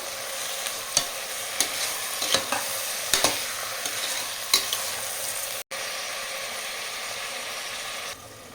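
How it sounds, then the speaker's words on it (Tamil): Tomatoes with salt sizzle steadily in a hot pan while a spatula stirs them with repeated sharp scraping knocks, and the frying hiss continues under the strokes, with no talking. "எல்லாம் நல்லா கலந்து விட்டு நல்லா வதக்கி எடுத்துக்கலாம்"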